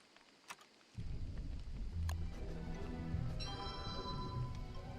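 Steady rain noise from the video game Don't Starve: Reign of Giants starts suddenly after a second of near silence and then holds, with faint game music and one small crack that could be distant thunder.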